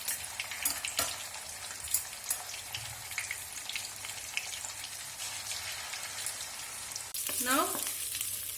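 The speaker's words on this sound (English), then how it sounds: "Now oil is hot. You need to deep fry the fish." Fish deep frying in hot oil for a soy sauce fish curry gives a steady, moderately loud crackling sizzle throughout, with scattered pops and a brief stir or clatter near the end.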